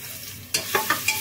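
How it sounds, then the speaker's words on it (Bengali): Onion frying in a little hot oil, with a soft sizzle beneath a few sharp spatula stirs and scrapes in a pan, close and fairly quiet, no voices. "পেঁয়াজটা কিছুক্ষণ ভেজে নিব"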